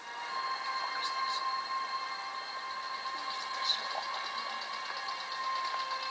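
A steady engine hum idles continuously with a faint mechanical rattle, constant in level throughout, with no voices.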